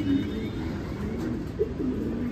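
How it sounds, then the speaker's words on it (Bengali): Pigeons cooing in a home loft: several soft, low, throaty coos recur close by over a steady murmur of more birds, with no talking. "তো আজকে দেখাবো আমার ঘরেরই কিছু কবুতর"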